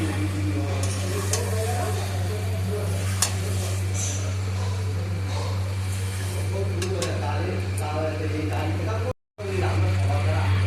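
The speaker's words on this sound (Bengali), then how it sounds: "দিয়ে এবার একটু ভালো করে কষিয়ে নিতে হবে মাটনটাকে" Marinated mutton fries down in a wok with a steady sizzle over a constant low hum, broken by occasional clinks of the utensil against the pan, someone speaking throughout, and a short silent gap near the end.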